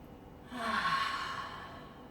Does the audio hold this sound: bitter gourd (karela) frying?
no